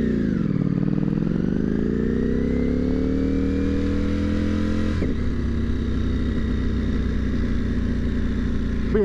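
A car engine hums steadily from inside the cabin, its pitch climbing as the vehicle accelerates, then shifting abruptly as if changing gear before settling into a steady drone, with no talking.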